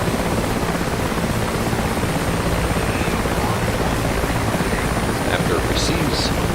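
The engines of a Mi-8MTV2 Hip helicopter in DCS spool up into a loud, steady whooshing roar with a rotor-like hum. It continues throughout, with a few faint higher tones near the end.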